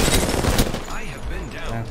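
Rapid gunfire from weapons in Apex Legends crackles loud and close in a short burst, with a player speaking over the shots.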